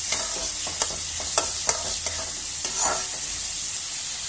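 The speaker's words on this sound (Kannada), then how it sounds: "ಇದನ್ನೀಗ ಗೋಲ್ಡನ್ ಬ್ರೌನ್ ಆದ ತನಕ ಸ್ವಲ್ಪ ಫ್ರೈ ಮಾಡ್ಕೋಬೇಕು" Finely chopped onions fry in hot oil in a pan while a spatula stirs them, making a steady loud sizzle with a few sharp scrapes and clicks, close by and with no talking.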